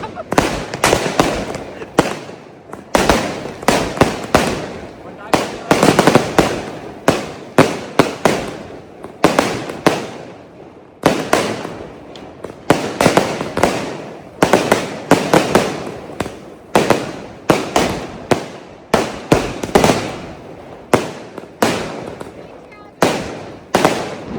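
Firecrackers and fireworks at a family Diwali celebration burst in rapid, irregular volleys of sharp cracks and pops, loud and close, with short pauses between clusters and voices occasionally heard among them.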